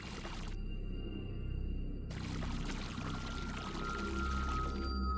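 Water gushes and pours steadily in a video game scene, a continuous broad rush that swells and carries on, with a faint tonal hum running beneath it throughout.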